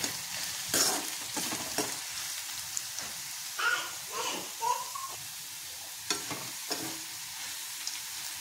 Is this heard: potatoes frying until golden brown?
yes